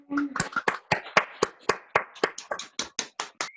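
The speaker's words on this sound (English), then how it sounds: "So please give them a round of applause." Meeting participants at a virtual Rotary district assembly clap in a sparse, uneven series of individual sharp claps, fairly close and distinct rather than a dense crowd sound.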